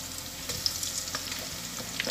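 Chicken feet sizzle and fry in a pan for adobo, a steady, close crackling hiss with scattered small pops throughout.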